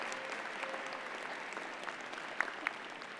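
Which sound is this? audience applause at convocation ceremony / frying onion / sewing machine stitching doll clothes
audience applause at convocation ceremony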